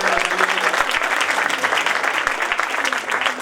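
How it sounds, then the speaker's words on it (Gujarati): An audience bursts into loud, dense applause for the teachers at a children's cultural programme during Paryushan, a steady roar of clapping that holds for several seconds without pause. "દરેક ટીચર્સ માટે પણ એકવાર જોરદાર તાળીઓ"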